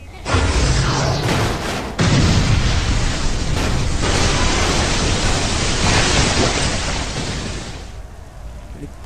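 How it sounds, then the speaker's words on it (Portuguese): A loud, sustained roaring blast of noise from a nuclear explosion in GTA San Andreas, a modded Shinra Tensei jutsu, rumbling and hissing for several seconds before tapering off. "Ele provoca uma explosão nuclear muito, muito largo"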